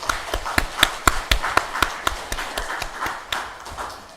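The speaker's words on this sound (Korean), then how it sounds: "우리 영광의 박수를 올려드리겠습니다" A congregation at a Sunday morning Korean church worship service claps together in a steady rhythmic beat of sharp, evenly spaced claps, fairly close and without talk.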